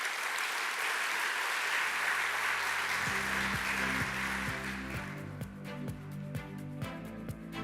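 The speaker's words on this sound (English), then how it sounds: "give the Minister of Finance and the Public Service another round of applause" Crowd applause at a business conference, broad and sustained, fills the room for several seconds, then thins as a steady rhythmic piano-like music fades in beneath it.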